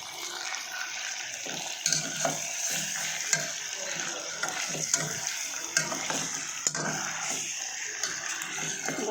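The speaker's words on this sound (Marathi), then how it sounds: "खूप छान पैकी तळून झालेली आपली वाम मच्छी" Eel fish (vam) frying in a pan, a bright continuous sizzle with intermittent crackles and spatula scrapes, close and moderately loud.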